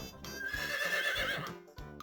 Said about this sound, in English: The horse sound effect.